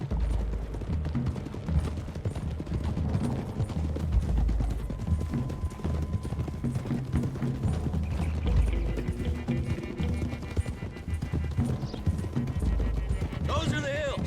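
Horses gallop across open country in Red Dead Redemption 2, a steady clip-clop of hooves running under continuous game music, with voices talking over the ride.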